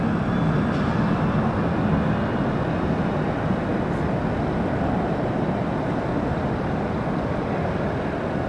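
A DC-9 jet airliner at Los Angeles International Airport, a steady broadband engine roar from a distance that holds at constant loudness throughout, with no voices over it.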